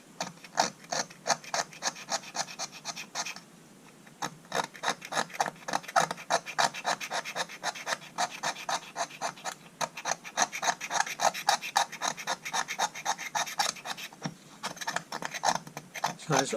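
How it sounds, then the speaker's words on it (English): A scraper rasps repeatedly across the corroded body of a Kielder 18V impact wrench, making close, gritty scraping strokes in bursts with a short pause partway through. "I'll just show you that if I go across there you can see it pinging off. And I'm just scraping."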